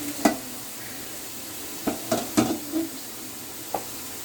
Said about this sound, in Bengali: আলুটা ভাজা দিই।